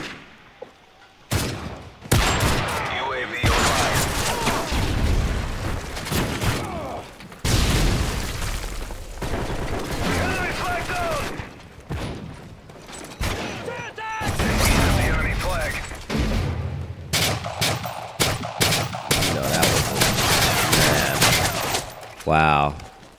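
SMG gunfire in a Call of Duty Modern Warfare 3 Capture the Flag multiplayer match, repeated sharp bursts of rapid shots with booms and explosions between them, loud and close, with someone talking over parts of it.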